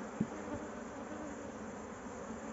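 A steady, dense hum of honey bees buzzing at an open hive, close and continuous, with a faint knock near the start.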